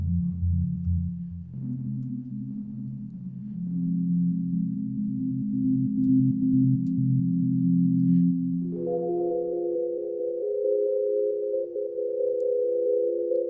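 Ableton Live 11 Hybrid Reverb with square-wave modulation produces sustained synth tones that step abruptly between pitches, their smooth wash given movement by the modulation, alone and steady at moderate level.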